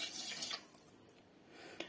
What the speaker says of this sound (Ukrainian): Беру каструлю, в якій я буду готувати, відміряю сюди 2 літри води